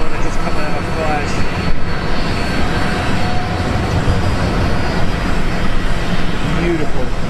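A Boeing Dreamliner airliner taxiing at Amsterdam Schiphol airport, its steady jet engine roar filling the scene at close range, with voices talking faintly underneath.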